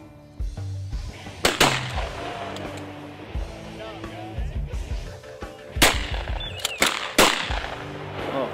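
Muzzleloader gunfire during an outdoor deer hunt on a mountain preserve, with several loud sharp reports spread across the stretch, some crackling, and background voices and rustling between the shots.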